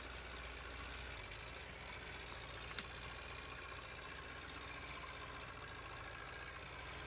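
Tractor engine idling in Farming Simulator 15, a steady, even low rumble that holds unchanged throughout with no talking over it.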